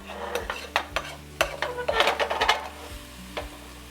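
A utensil scrapes and clinks against a pan in quick uneven strokes, moving cooked nacho meat into a bowl, with faint sizzling underneath, close and moderately loud.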